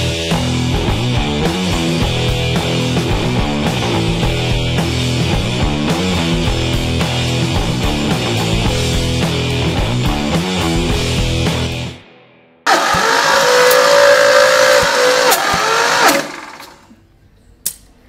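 Ford Mustang V8 engine running after a rebuild start-up, a loud, steady, rhythmic mechanical drone that cuts off, then resumes briefly in a harsher burst before stopping.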